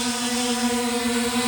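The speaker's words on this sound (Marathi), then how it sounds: "हा बघा हा ड्रोन आहे बघा" A drone flies overhead above a beach during a karate camp, giving a steady, unbroken buzzing whine that holds one pitch with bright overtones, fairly loud and close and heard on its own.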